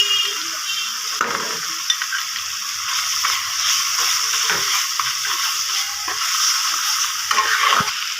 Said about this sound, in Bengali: এখন আমার মশলাটা কত সুন্দর কষানো হচ্ছে